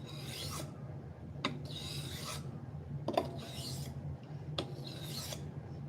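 Knife blade being sharpened on a 1000 grit whetstone, repeated rasping strokes with brief pauses between passes, close and fairly quiet.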